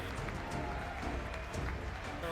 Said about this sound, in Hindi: अमेरिकी राष्ट्रपति डोनाल्ड ट्रंप की जुबान से शब्द निकले कि हॉल तालियों से गूंज उठा।